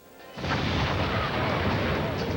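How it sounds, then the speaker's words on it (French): A huge explosion with flames bursts in suddenly as a loud, dense roar that holds steady and rumbling for the next two seconds. "Cette explosion était vraiment gigantesque."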